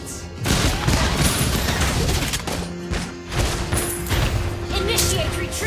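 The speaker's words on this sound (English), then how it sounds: "Behold my crescendo of bullets!" Rapid gunfire from the hero Granger in the Mobile Legends video game, a dense run of loud, overlapping bursts with thuds and crashes, and game music and effects layered underneath.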